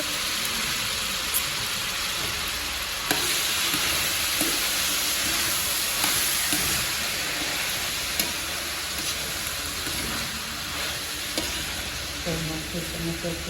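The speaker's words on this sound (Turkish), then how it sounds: "Annem salça güzelce kızardı." Tomato paste fries with beans in a large pot of home cooking for a sixty-person workplace meal, giving a steady close sizzle with occasional light clicks of stirring.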